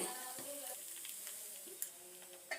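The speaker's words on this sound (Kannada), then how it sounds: "1-2 ನಿಮಿಷ ಫ್ರೈ ಆದರೆ ಸಾಕು." Paddu fry in a covered pan on a low flame with a faint, steady sizzle and a couple of soft clicks.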